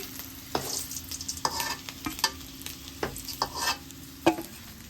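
Eggs frying in oil with turmeric, a continuous close sizzle with periodic scraping knocks of a spatula against the pan as they are turned.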